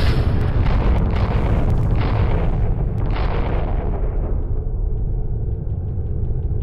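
Heavy, booming explosions in a Freespace space battle, loud and dense at first with repeated blasts, then fading into a lower, steady rumble toward the end.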